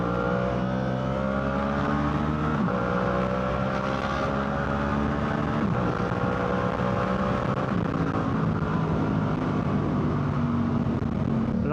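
Yamaha R7 sport motorcycle with a baffle fitted in the exhaust, engine note rising and falling through repeated upshifts, a steady loud drone with rhythmic pitch sweeps and wind rush.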